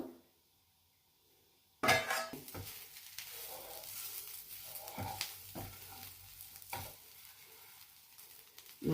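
Grated coconut and fenugreek leaves frying in oil on low heat, a soft sizzle with scraping stirs and a few utensil clinks, beginning after a quiet opening.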